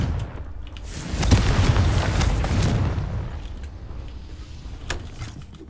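A Confringo spell in a Harry Potter video game sets off a booming explosion with a rumbling, crackling burst that swells and then fades, followed by a few scattered clatters.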